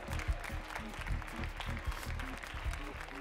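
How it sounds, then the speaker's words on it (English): A small group of women in a church congregation clap during a sermon, with steady, fairly close applause and a few sharper hand claps running throughout. "I got three ladies down here who are obviously tithers clapping right now"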